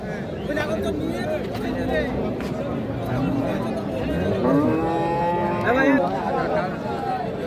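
Cattle, including Deshi and Sahiwal breeds, moo repeatedly at a busy cattle market, with several drawn-out calls rising over constant crowd chatter and people talking nearby.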